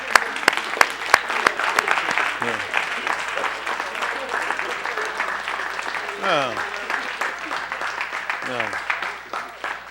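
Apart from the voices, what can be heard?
hand clap applause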